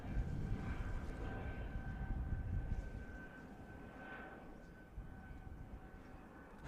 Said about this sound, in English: Amazing visuals as that little Swiss A220 passed directly in front of the setting sun here at Heathrow Airport